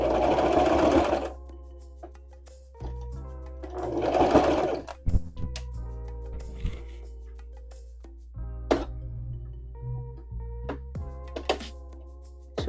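A sewing machine stitches back and forth across a bag flap in short bursts, the needle's quick rhythmic chatter loud and close, with soft clunks and pauses between runs and no talking.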